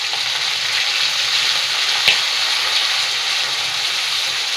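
Tomatoes fry in a hot oil tempering with curry leaves, chillies and garlic for Maharashtrian kadhi, producing a constant even sizzle with one brief louder crackle.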